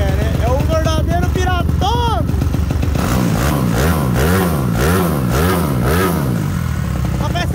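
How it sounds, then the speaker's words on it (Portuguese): A motorcycle fitted with a 67mm kit and carburetor revs hard in repeated rising and falling bursts, loud and close, after a stretch of someone talking over it. "só pelo giro da moto, vocês sabem como que é"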